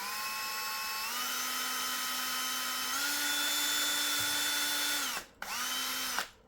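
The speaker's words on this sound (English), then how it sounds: "Mark the position and start drilling, and do not put any force on the drill." Small drill boring a hole in plexiglass at low speed with no pressure applied: a steady, close whine that steps up in pitch twice, then cuts out briefly and restarts before stopping.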